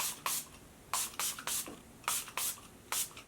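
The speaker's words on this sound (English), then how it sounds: "I'm just going back in with my same makeup setting spray." Several short hissing bursts of a makeup setting spray misted onto a face, quick pumps in uneven rhythm, close and fairly quiet with no talking.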